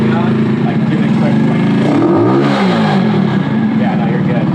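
A Honda CT90 motorcycle engine with a 125cc Nibbi carburetor runs loud and close, revving up with a rising, then falling pitch over a steady droning idle.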